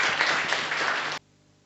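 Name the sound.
audience clapping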